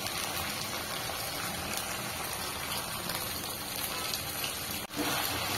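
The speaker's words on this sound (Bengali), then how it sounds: "এবার ম্যারিনেট করা পাত্রে মশলা ধোয়া যে জল আমি অ্যাড করব" Spice-washing water poured into a hot pan of marinated chicken, a steady rushing hiss and bubbling sizzle that continues evenly, with a brief dip near the end.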